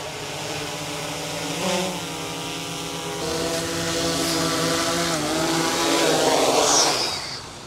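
A DJI Mavic drone climbs toward a three-story residential rooftop, its rotors giving a steady, moderately loud whine that rises and wavers in pitch as it ascends, with no talking.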